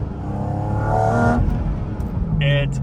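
A Porsche GT4 RS fitted with a GT3 engine accelerates hard, its engine note climbing in pitch through the revs and then shifting, loud and close, with a voice speaking over it.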